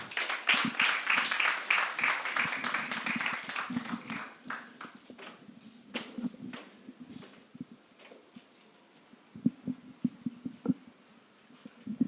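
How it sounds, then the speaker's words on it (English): Audience applause for the UNDP Resident Representative in Ghana at a report launch: dense clapping fills the first few seconds, then thins into scattered, fading claps with a few louder taps near the end, heard from within the hall. "A round of applause for him."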